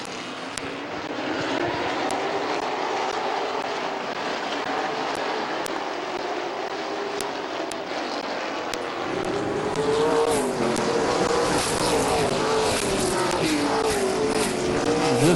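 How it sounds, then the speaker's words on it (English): Race trucks roar past at Midvale Speedway, a continuous loud engine drone that swells and shifts in pitch as the pack circles the track, with no talk. "Okay, truck number 1, Brad Copen, comes out, takes that number 1 spot."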